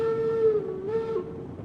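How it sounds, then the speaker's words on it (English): A steam locomotive whistle in Railroads Online sounds two clear tonal blasts, a longer one followed by a shorter one, fairly close and steady over a low rumble. "let's blow the whistle again."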